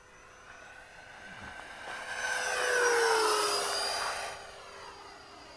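A Freewing Stinger 90 RC jet plane roars past overhead, its ducted-fan whine rising as it approaches, peaking loudly, then falling in pitch as it flies away, with no talk.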